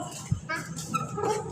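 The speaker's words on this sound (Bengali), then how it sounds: "কুকুর কামড় দেবে, অনেকগুলো কুকুর" Several dogs in a street yip and bark briefly at a distance, faint and mixed with people talking nearby.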